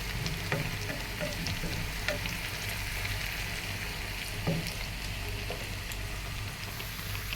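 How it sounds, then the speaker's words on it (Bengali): Garlic and a large, mild chili frying in hot oil for a tempering, a steady dense sizzle with small crackles and pops running throughout at close range, no voices. "রসুনটা ভাজা হয়ে গেছে"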